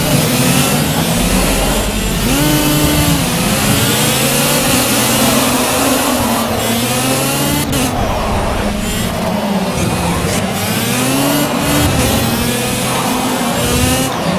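A racing kart's engine in the video game Project Cars screams and revs continuously, loud and close, with repeated rising and falling pitch sweeps as it accelerates and brakes through corners.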